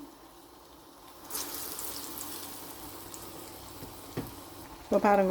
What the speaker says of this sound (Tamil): இப்போ ஒரு பக்கம் பொரிஞ்சிட்டு அடுத்த பக்கம் திருப்பி விட்டுருக்குறேன்.